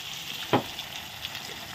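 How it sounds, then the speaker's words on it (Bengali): Chickpeas frying in oil for a jackfruit curry, a steady soft sizzle with a brief louder burst as they hit the pan, close and alone without talk. "ছোলাটা দিয়ে একটু ভালো করে ভেজে নেব তেলের মধ্যে"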